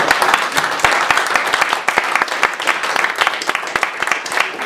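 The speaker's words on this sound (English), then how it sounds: "Maybe we could everyone get a round of applause" Audience applause at a Freedom of Information event in Edinburgh: a steady wash of many hands clapping, close and fairly loud, with sharp individual claps standing out throughout.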